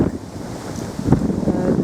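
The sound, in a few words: strong wind at Scarborough castle on the coast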